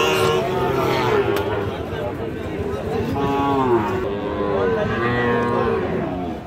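A cow at a busy cattle market lets out several drawn-out moos in succession, loud and close, with crowd voices murmuring behind.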